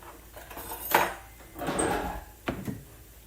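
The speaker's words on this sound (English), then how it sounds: "let me go grab a bowl" Kitchen dishes clattering as a bowl is pulled from a stack, with a couple of clinks and scrapes and a final soft knock, close by with no talk.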